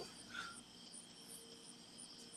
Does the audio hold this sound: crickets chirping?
yes